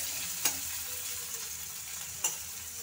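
Vegetables for egg chow mein fry steadily in a pan, a constant sizzle broken by two sharp scrapes of stirring, close and with no talk.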